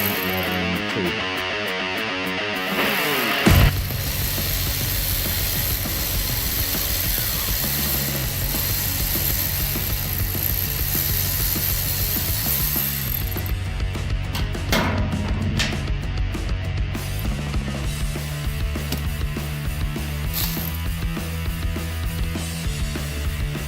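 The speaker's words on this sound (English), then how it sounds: "First job, disconnect the half shafts from the transmission" A ratchet working on the transaxle half-shaft bolts of a Lancia Stratos replica, its clicking mechanism running loud and close inside a continuous, dense mechanical din with no clear pauses.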